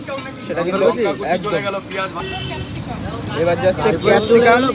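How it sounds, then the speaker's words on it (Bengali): Onions and chopped chilli fry in a pan for egg chowmein, a soft sizzle and stirring running beneath loud, close conversation that dominates throughout. "এখন কিন্তু প্রথমে ভাজা হচ্ছে পেঁয়াজগুলো"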